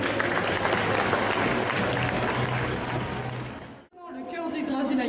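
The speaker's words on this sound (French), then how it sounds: "Donc on peut les applaudir bien fort," An audience at a cosplay contest during an indoor festival applauds the participating cosplayers with a dense, loud, sustained burst of clapping that cuts off sharply, followed by a voice resuming.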